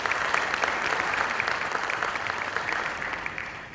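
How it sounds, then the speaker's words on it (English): A conference audience at an HR conclave in Pune applauds the panel as it joins the stage, with steady, dense clapping from many hands that holds at an even level throughout. "Can we have a big round of applause for our panel,"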